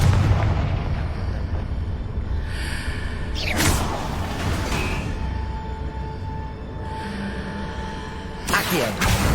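In the video game Hogwarts Legacy, a Confringo fire spell erupts in booming explosive bursts with a rushing whoosh, set against rumbling game ambience and a brief vocal grunt.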